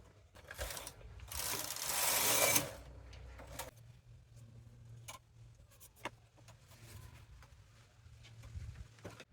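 A knitting machine carriage sweeps across the bed once in a loud, close rasping rush, followed by quieter mechanical clicks and ticks as the sweater is worked, with no talking.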